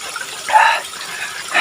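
Cold spring water gushes up from underground in brief splashy surges, close and fairly loud, with a steady watery hiss between the bursts.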